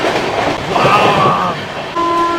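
Sealdah–Jalpaiguri Road express train 13115 running at speed, a loud continuous rushing roar with rhythmic rail clatter and a brief tonal whine near the end.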